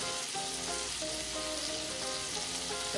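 Onions, tomatoes and turmeric sizzling in a pan on high flame, an intense unbroken crackling hiss with faint stirring scrapes, close and loud throughout.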